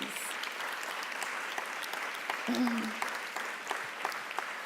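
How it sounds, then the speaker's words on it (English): A seated audience at a presidential library event gives a sustained round of applause, steady moderate clapping with a brief voice heard partway through. "Y'all give them another round of applause, please."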